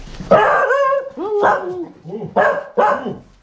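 A dog at a rural village house barks and yelps close by in several short, sharp outbursts with brief pauses between them.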